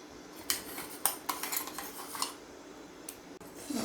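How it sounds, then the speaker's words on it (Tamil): A wooden spoon stirs thick onion vadam batter in a vessel, making quiet wet scraping strokes with several small knocks and clinks against the sides. The sound is close and faint, with no voices. "ஒரு உட்டன் ஸ்பூன் எடுத்து நீங்கள் வந்து மிக்ஸ் பண்ண ஆரம்பிங்க"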